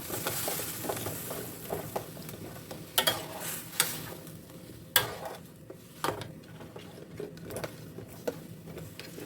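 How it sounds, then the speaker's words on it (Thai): Eggplant goes into a simmering Thai pork red curry and is stirred, with scattered sharp scrapes and clinks of a utensil against the pot over a low bubbling background, no talking. "เดือดแล้วใส่มะเขือเลยค่ะ"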